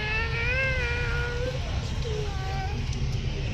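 A cat on a coach bus gives a few drawn-out, wavering meows close by over the bus's steady low engine rumble, with a person speaking softly at times.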